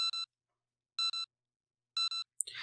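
Telephone keypad tones sound in 428: Shibuya Scramble during a desperate call to the police, three evenly spaced clusters of two quick beeps, crisp and isolated against silence, ending in a brief burst of other game noise.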